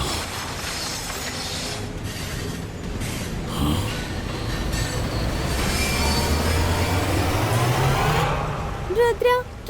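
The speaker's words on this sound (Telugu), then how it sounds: "ట్రైన్ నీళ్ళ లోపలికి వెళ్ళిపోయింది" A cartoon train rushes along the tracks with a continuous rumbling roar and squealing wheels, a rising whistle-like tone near the end, while voices talk over it.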